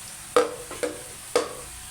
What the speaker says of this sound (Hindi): मेरे पास इस वक्त चिकन मौजूद है तो मैं चिकन डाल रही हूँ।